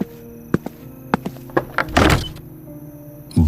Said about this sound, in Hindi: बार बजती डोरबेल से परेशान होता मनु टॉवल पहने पहने ही दरवाजा खोलने गया।